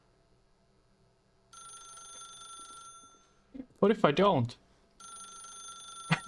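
A telephone rings in the video game The Stanley Parable, a steady electronic trill that starts, stops, then resumes, while someone talks over the pause between rings.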